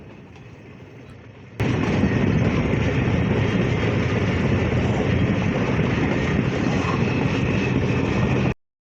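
A Nilsagar Express train running on railway tracks in northern Bangladesh near Domar. After a quiet start it bursts into a loud, continuous close-up rumble and roar of rolling wheels that holds steady, then cuts off abruptly.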